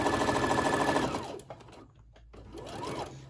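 A sewing machine runs in a fast, even buzzing burst while stitching a seam on a small rainbow mini tote bag, then slows and stops before a short second whir, close up.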